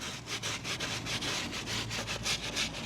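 A brush scrubs the bottom of a car tire during a no-hose wheel cleaning, making close, steady rhythmic scratchy back-and-forth strokes at a quick regular pace with no talk.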